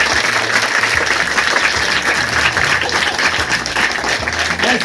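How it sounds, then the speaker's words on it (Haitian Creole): A school crowd at a free-school opening in Jacmel, Haiti, claps loudly and steadily for the whole stretch, a dense wash of applause with no talking on top. "Applaudissez."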